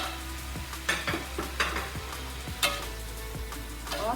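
A spatula stirs kikil with green chili, jengkol and winged beans in a hot pan, giving a steady sizzle broken by sharp, irregular scraping clicks of the utensil against the pan, with no talking.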